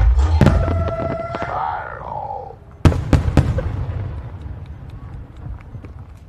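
Several fireworks burst at a fireworks competition with sharp cracking bangs and a whistling rise, echoing between blasts, loud and fairly close.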